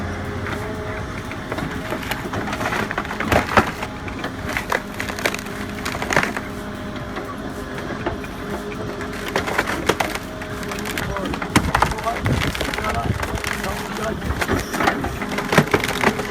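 Stump-removal machinery splits and crushes wood, with loud splintering cracks and creaks repeating irregularly over a mechanical hydraulic drone, fairly close, with some voices in the mix.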